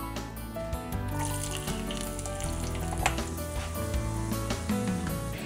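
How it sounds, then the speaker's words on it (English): Eggplant slices frying in a pan with garlic for a tomato sauce, a steady close sizzle that runs throughout over faint kitchen clatter and tonal background sounds. "We're gonna fry the eggplants and we're gonna put the garlic for the tomato sauce."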